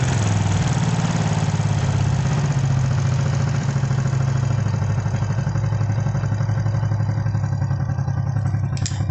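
A Honda Biz motorcycle engine idling after a carburetor adjustment, a steady close mechanical putter with even firing and a light clattery edge, loud and constant throughout with no talking.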